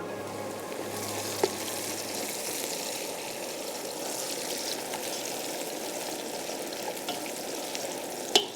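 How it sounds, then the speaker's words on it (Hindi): Onions fry and brown steadily in a pan as part of a lentil and greens dish, a constant close crackling sizzle broken by a couple of faint clicks, with no talking. "चलिए प्याज हो रही है ब्राउन"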